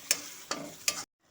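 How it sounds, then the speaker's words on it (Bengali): Spices and yogurt being stirred in a hot pan for a Bengali aloo dum: three quick scraping, sizzling stirs in a steady rhythm, close and moderately loud, then a sudden near-silence. "দইয়ের সাথে ভালো মতো করে সমস্ত মশলার সাথে ভালো মতো করে কষে নেব।"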